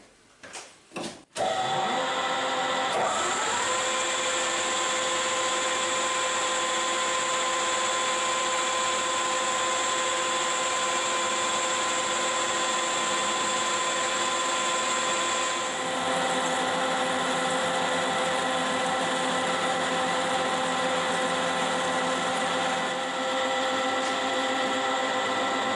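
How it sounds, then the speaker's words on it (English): A steady, loud whine of a power drill drilling metal for a metric 10 tap on a mini-digger tram wheel part, after a few sharp knocks at the start, with a slight shift in pitch midway. "let's drill and tap metric"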